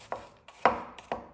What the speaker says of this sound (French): je viens détailler en lamelles